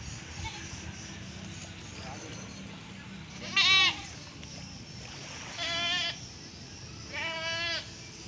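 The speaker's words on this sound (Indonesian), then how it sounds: "dari laut bukan dapat ikan tapi dapat kambing" Two goats bleat from a boat out at sea, three distinct wavering cries spaced a couple of seconds apart over a low background of water and engine noise, fairly close and loud.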